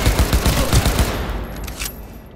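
Video game gunfire from Cyberpunk 2077: a loud, dense volley of rapid shots for about a second, then fading into quieter scattered cracks and echoing debris.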